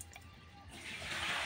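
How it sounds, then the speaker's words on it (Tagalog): Water is scooped up by hand during a morning routine where the tap runs weak, with a quiet pause before a soft, sustained splashing pour rises midway and continues to the end. "Sandok-sandok ako ng tubig."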